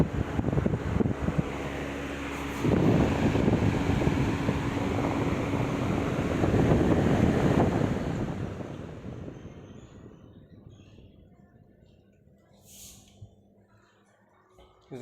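A Crompton Optimus 65L air cooler runs on its high setting, giving a loud, steady whooshing rush of fan and airflow that fades down toward quiet near the end.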